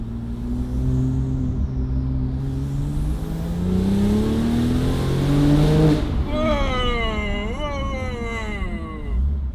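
A Porsche 911 Turbo, a rebuilt cheap example, pulls hard from inside the cabin: a loud, deep engine rising steadily in pitch, then a gear change and another strong climb. Faint voices sit underneath.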